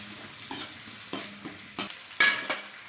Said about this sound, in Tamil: வெங்காயம், கடலைப்பருப்பு இதெல்லாம் போட்டு நல்லா பொன்னிறமாக வர அளவுக்கு வணக்குங்க.